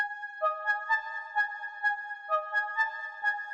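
A recreated synth lead plays the melody from a song: bright, sustained tones stepping through a short repeating phrase, heard alone and fairly quiet.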